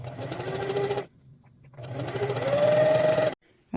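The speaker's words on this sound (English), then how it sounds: "And then keep sewing." Sewing machine stitching a LARP shield cover, running in two loud bursts of steady whirring with a short pause between them and a faint voice underneath.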